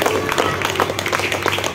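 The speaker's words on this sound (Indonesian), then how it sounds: "Tepuk tangan yang meriah untuk anak-anak kita" Applause for the children at an Indonesian Islamic junior high school ceremony, a hall full of people clapping in a dense, continuous patter at fairly close range, with a low hum underneath.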